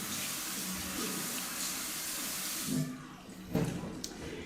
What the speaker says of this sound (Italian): Andiamo a sciacquare con acqua ormai fredda.